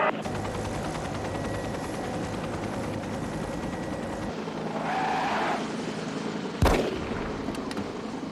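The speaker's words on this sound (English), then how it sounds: "somebody fired a shot" A single sharp gunshot cracks out suddenly, fairly near and loud, above a continuous droning engine rumble like a helicopter overhead.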